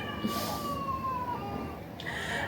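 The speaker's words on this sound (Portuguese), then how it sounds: "Gente, os gatos." Cats meowing several times, drawn-out wavering cries that rise and fall, heard fairly close over a steady background hiss.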